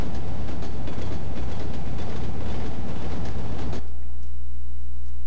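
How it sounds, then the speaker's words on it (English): A train rolling along a track in an obscure horror video game, a loud continuous rumble with rhythmic clacking that cuts off abruptly near the end, leaving a low steady hum. "Was there another train coming down the track?"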